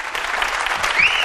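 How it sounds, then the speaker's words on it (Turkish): Brief burst of studio audience applause on a Turkish daytime talk show, a dense clatter of clapping for just over a second with a faint whistle near the end. "Alkışları."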